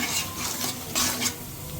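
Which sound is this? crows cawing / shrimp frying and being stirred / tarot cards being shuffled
shrimp frying and being stirred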